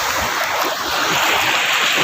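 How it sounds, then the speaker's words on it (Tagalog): Strong rushing water current at a river net-casting spot, a steady loud broadband roar that fills the whole clip with no break and no voices. "malakas na hagos ng tubig"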